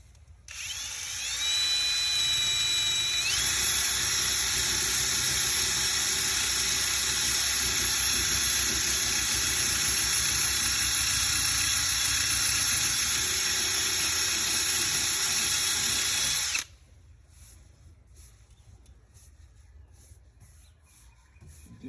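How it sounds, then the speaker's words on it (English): A sanding pad rubbing steadily across a car hood, a loud continuous abrasive hiss with a faint whine that holds for about fifteen seconds before cutting off, leaving quiet room noise. "it just makes that pad just glide right across the surface that you're trying to sand down"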